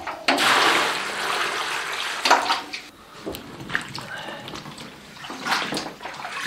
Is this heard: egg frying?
no